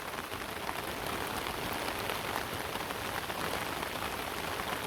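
Rain falls steadily on a flower garden with marigolds, a dense, even patter that stays constant throughout with no voices.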